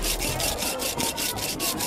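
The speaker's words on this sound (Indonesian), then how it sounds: "Oke, kita mulai di amplas." Steady back-and-forth rasping of sandpaper on the hard edge of a plastic bottle, close and continuous in quick regular strokes.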